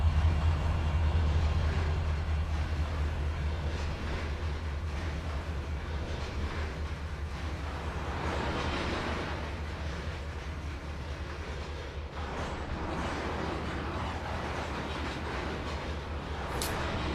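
A train runs on the tracks in the Trainz 2022 railway simulator game, giving a steady rumbling roll with a low engine drone and faint clatter, continuous and even throughout, with no talking.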